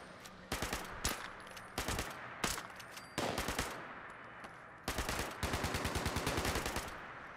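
Bursts of rapid automatic gunfire from the Fallout 76 video game, several loud volleys of quick repeated shots separated by short pauses, with a long sustained burst near the end.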